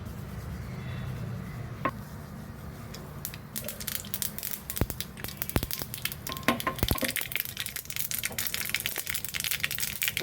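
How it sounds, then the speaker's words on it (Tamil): Sharp popping crackles of mustard seeds bursting in hot oil, scattered and irregular, over a steady sizzling hiss. "நல்லா கடுகு வெடிச்சிருச்சு"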